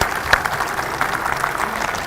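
Audience applause greeting a gallantry award winner called to the stage at an Independence Day event with soldiers, dense steady clapping from a crowd throughout, fairly loud and unbroken.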